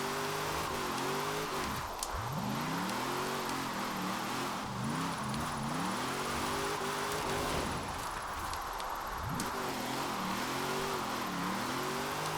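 A Hot Wheels car in Forza Horizon 4 revving hard while drifting, the engine note climbing and dropping in repeated surges as the throttle is pumped, loud and close with tire noise beneath it.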